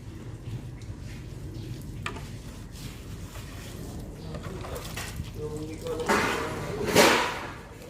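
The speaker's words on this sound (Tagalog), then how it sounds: "Pasiritin mo lang yung tubig." Water spraying from a pressure washer onto a motorcycle being cleaned, low rumbling handling noise first, then two loud hissing blasts of spray near the end, with brief voices nearby.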